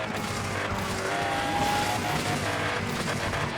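A Lamborghini Veneno races in Asphalt 9, its engine droning loudly and steadily with rushing wind and tire noise, and no break in the roar.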